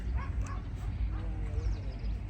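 A dog barks and yips faintly at a distance outdoors near a temple, a few short, quiet yelps over a low background hum.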